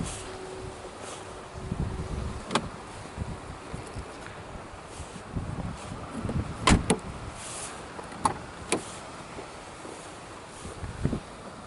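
Doors of a 1995 facelift Nissan Primera P10 being locked, a few sharp clicks and clunks of the central locking heard nearby against quiet outdoor background hiss and faint rustling.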